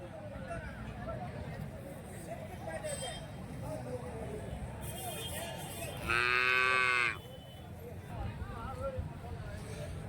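At a busy cattle market in Santhipuram, Andhra Pradesh, one loud cow moo rings out near the mic while a crowd murmurs and people talk in the background.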